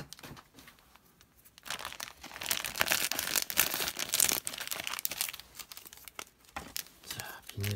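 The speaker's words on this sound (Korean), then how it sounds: "비닐을 뜯고 러너를 꺼내서 보면" Plastic wrapping around the runners of a 1:220 Gundam Mk-II model kit crinkles and tears in close, irregular bursts, louder in the middle, with a soft voice murmuring between the rustles.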